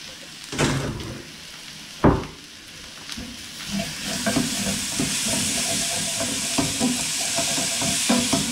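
Chilli fries in a pan for a fish curry, a bright sizzle that swells after a couple of sharp stirring clatters and keeps hissing steadily at close range.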